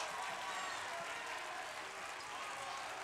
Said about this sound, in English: student section, they are up, they are cheering